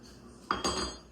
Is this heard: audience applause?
no